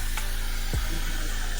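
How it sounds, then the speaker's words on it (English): A handheld hair dryer blows steadily on a wig during a reinstall, a constant close whooshing hiss with a brief low thump partway through. "Then take my hairdryer again."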